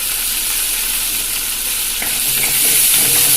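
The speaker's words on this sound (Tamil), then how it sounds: "நல்லா ப்ரௌனிஷாக வர வரைக்கும் நல்லா வதக்கி எடுத்துக்கலாம்" Green turkey berries (sundakkai) sauté in a pan for chutney, a loud constant sizzle with a few light utensil clatters toward the end.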